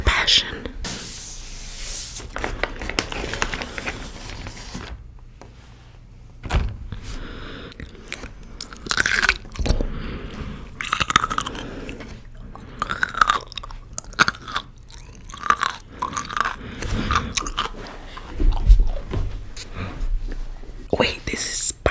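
Eating and chewing close to the mic, with crunches, bites and soft mouth sounds coming in bursts, while a voice whispers and talks quietly over much of it.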